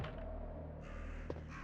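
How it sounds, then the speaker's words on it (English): Crows cawing inside a Resident Evil game facility, a brief harsh call over a constant low droning hum of game ambience. "I hear birds."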